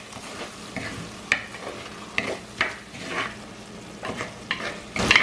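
Chicken heart pepper curry stirring and sizzling in a pan, with soft scraping strokes and brief clinks at intervals, steady bubbling underneath.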